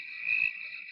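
A single steady, high-pitched frog call lasting just under a second, loud and close with no voices over it.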